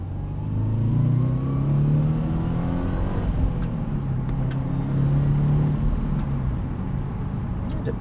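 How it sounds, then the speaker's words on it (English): Turbocharged boxer engine of a 2014 Subaru WRX hatchback with five-speed manual and all-wheel drive accelerating, a steady close rumbling drone with rising engine tones throughout, loud and continuous with no talk. "Throttle response is immediate."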